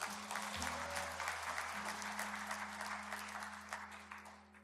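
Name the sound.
congregation applause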